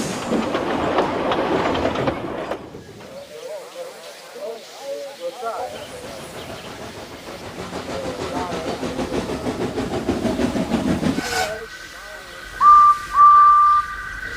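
A steam engine's whistle sounds in two short, loud, clear blasts near the end, after narrated speech over a rolling train rumble with clickety-clack.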